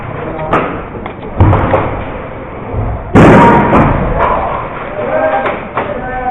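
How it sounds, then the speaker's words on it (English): Thunderbeat airsoft grenade thrown during an indoor CQB game, with scattered thuds and knocks before a sudden loud bang midway. Muffled shouts and movement follow in a close, cramped space. "This is my first Thunderbeat toss."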